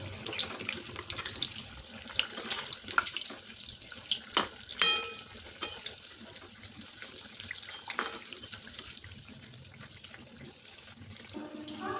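Vegetarian banana flower chops coated in gram flour batter deep-frying in hot oil, giving a continuous bubbling, watery hiss that stays steady and close throughout with no talking.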